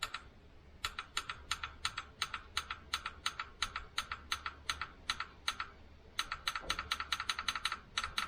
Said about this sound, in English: So let's see if it clicks. It's clicking.